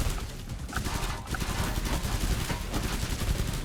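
Rapid, continuous pistol fire in Killing Floor 2, a dense rattling stream of close shots with no pauses, loud and steady throughout.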